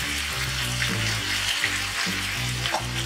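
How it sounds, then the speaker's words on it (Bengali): Spice paste for prawn curry with poppy seed cooking on a low flame after a splash of water, a dense steady sizzle and bubbling hiss up close, with a few soft stirring scrapes. "মশলাটা ভালো করে মেশার জন্য সামান্য একটু জল দিয়ে দিচ্ছি"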